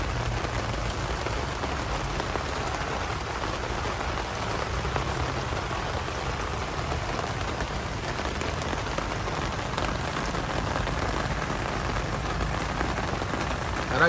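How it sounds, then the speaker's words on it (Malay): Steady rain falls outside at a campsite during a scooter camping trip, a dense continuous patter on surfaces with no breaks and no voices. "Hujan."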